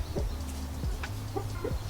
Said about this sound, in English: our chicken coop is full of hens